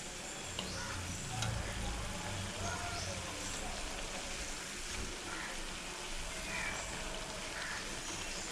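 Rice flour murukku fry in bubbling oil over a moderate flame, giving a steady, even sizzle and crackle that hisses on without a break, fairly faint and close.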